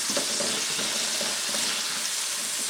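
Salted tolo beef fries with onions in hot oil, a close, continuous crackling sizzle with faint stirring bursts throughout.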